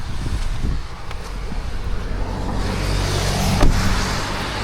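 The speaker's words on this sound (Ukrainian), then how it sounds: "Зараз я маю почекати, поки проїдуться машинки." Cars drive past a parked Toyota RAV4 Hybrid on a street, producing a steady roadway rumble that swells as one vehicle passes close near the end, with some wind noise on the microphone.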